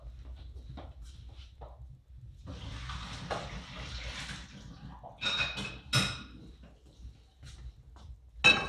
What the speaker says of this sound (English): I'm gonna get rid of this water